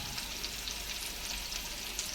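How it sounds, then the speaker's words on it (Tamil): Fish fries in plenty of oil, giving a steady, even hiss of sizzling that continues without a break at moderate loudness. "ஃபிஷ் ஃப்ரை பண்ணும்போது எண்ணெய் நிறைய ஊற்றும் போது ஃபிஷ் வந்து நமக்கு மொறுன்னு கிடைக்கும்"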